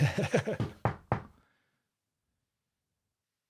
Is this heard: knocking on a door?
yes